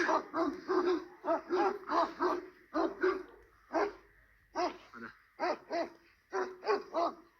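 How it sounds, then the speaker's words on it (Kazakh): Several large male dogs in a rural village bark repeatedly, with deep, loud barks that come in quick bursts separated by short pauses. "Төбеттер әдем болып тұр."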